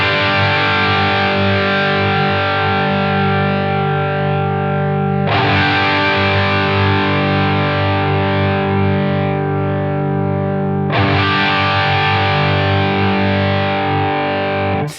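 Three long distorted electric guitar chords, each struck and held about five seconds, pass through the Line 6 Helix ADT double-tracking effect, sounding loud, wide and shimmering with no talking.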